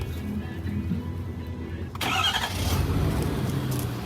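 A diesel street walker engine cranks and fires up after its fuel system has been bled, the running rumble jumping louder midway and settling into a steady, close idle.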